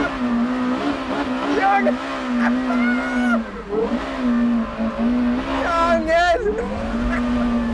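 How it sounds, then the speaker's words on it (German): A Porsche Carrera GT roars loudly from inside the cabin, its engine note rising and falling steadily, while someone shouts excitedly over it. "wir sind unterwegs im Porsche Carrera GT"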